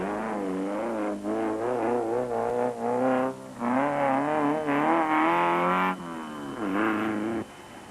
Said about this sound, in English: Further back, the Space Train cars were also doing their thing.